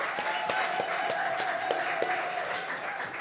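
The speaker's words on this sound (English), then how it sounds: "So it's just a clap for all our volunteers." Applause for volunteers at a football club's end-of-season awards night: a modest crowd clapping steadily, with individual claps standing out in an irregular rhythm, moderately distant and without speech.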